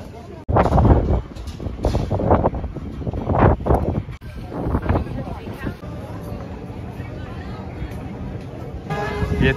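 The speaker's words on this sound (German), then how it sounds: "da es wirklich ziemlich windig ist" Strong wind buffets the microphone at a hilltop lookout in Rio de Janeiro, a steady rushing roar under close, continuous talking by several people.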